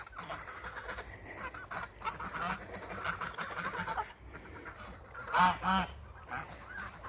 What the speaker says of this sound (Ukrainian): Ой, зраділи, політали гусочки.